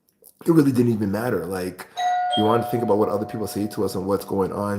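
A doorbell chimes a single sustained tone partway through, sounding between stretches of close indoor talk from a person speaking over it.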